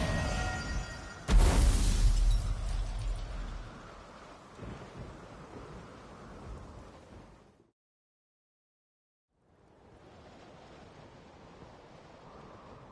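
Thunderstorm in a PS4 game: a loud thunder crack bursts in over steady roaring rain and wind, the downpour fading into silence for a couple of seconds before a softer rain wash returns.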